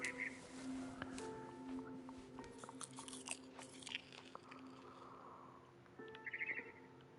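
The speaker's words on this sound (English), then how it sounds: "Then I heard chirping outside my window. It was a barn swallow going back to her nest." A barn swallow chirps outside a window in the video game What Remains of Edith Finch, with bright bursts of bird calls mixed among crunchy chewing and biting sounds over a steady low hum.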